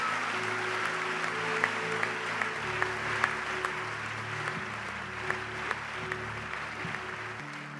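A church congregation claps steadily and loudly for several seconds, with a low sustained organ or keyboard tone underneath and no speech.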